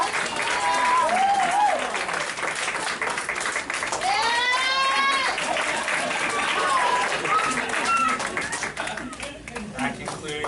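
Audience applause for adult education graduates at a 2016 graduation ceremony, steady continuous clapping filling the room for about ten seconds, with a voice speaking briefly over it partway through.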